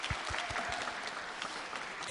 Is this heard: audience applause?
yes